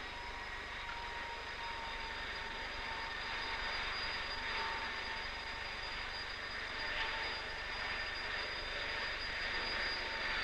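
Avro Canada VZ-9 Avrocar flying disc in free flight, heard as a faint, steady engine and turbine whine with a constant high tone over a low roar, unchanging and distant in an old 1960 recording.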